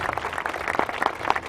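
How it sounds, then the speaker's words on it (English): Brief, scattered applause from an audience recognizing organ procurement partners at an event, a moderate patter of claps lasting under two seconds. "I'd like a big round of applause for our OPO partners"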